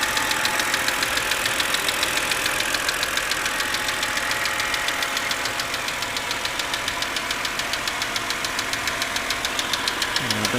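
A BMW 330i engine runs with a steady rhythmic ticking knock over a continuous mechanical hum, recorded close to the front driver's side of the engine bay with no talking.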